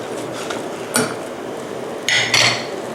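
Utensil stirring crispy fried fish in a cooking pot for Thai tom khlong soup, a few light clinks and scrapes against the metal, then a louder clattering stir near the end.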